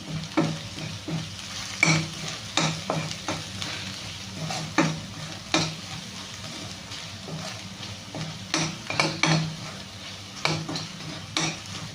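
A spoon stirs chicken curry with olive oil and salt in a pot, making irregular scraping strokes and sharp clinks against the metal over a light continuous sizzle.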